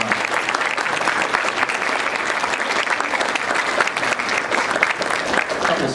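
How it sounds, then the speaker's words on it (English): A room full of people clapping for students at a school quarterly awards breakfast, a loud, dense, continuous wash of applause with a few voices mixed in. "So let's give them a round of applause"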